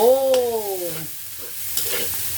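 Vegetarian fried rice being stir-fried in a pan, heard as a faint, low sizzle after a brief voiced exclamation at the start.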